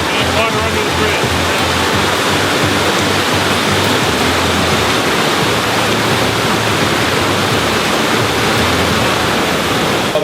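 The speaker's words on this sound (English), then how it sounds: "What a river." A river rushes and roars steadily nearby, a dense, constant wash of flowing water with no pauses.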